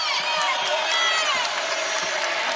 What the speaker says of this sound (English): the crowd coming to life a little bit